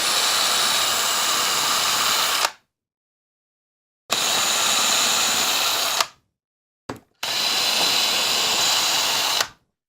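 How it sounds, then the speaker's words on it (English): A power drill bores pilot holes in wood in three sustained bursts of a few seconds each, separated by short silences. The drill is close and loud. "I'm going to go ahead and drill some pilot holes here."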